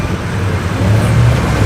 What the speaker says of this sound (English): Why is the Civic making so much noise?